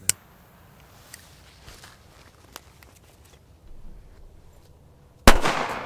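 A few faint crackles and pops, then one sharp, loud bang from a Chinese firecracker near the end with a brief ringing decay.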